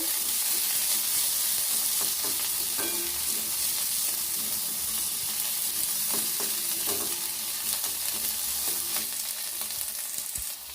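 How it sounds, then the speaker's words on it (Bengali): Chopped onions sizzle steadily in hot oil in a pan while a spoon stirs them, the frying hiss constant throughout with occasional scraping clicks of the stirring. "পেঁয়াজ কুচিটা দিয়ে দেব নেড়ে নেব ভালো করে"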